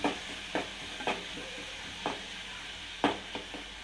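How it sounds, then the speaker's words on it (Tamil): Onions sautéing in a pan for a cassava stir-fry, a steady low sizzle broken by several sharp spatula scrapes against the pan, close and fairly loud, with no voices. "வெங்காயத்தை நல்லா பொன்னிறமாக கொஞ்சம் நல்லா வதக்கிக்கோங்க"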